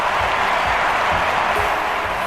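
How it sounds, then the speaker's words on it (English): A stadium crowd in the London 2012 Olympic video game applauds after a record throw, a loud, dense and continuous wash of clapping and cheering with faint low thuds pulsing underneath. "And the crowd stand on their feet to applaud."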